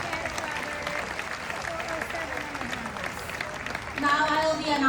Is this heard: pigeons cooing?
no